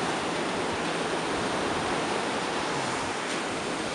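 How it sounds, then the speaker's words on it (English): Ocean waves crash close to the shore with a loud, continuous roar of surf that stays steady throughout and has no talking over it. "that would be a good angle at some of these waves that are crashing"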